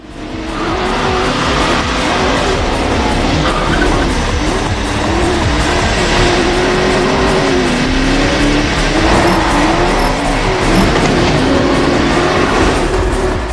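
Racing cars in a 1999 street-racing film scene, loud continuous engine roar with shifting revving pitch and tire noise, dense and unbroken throughout with no talking.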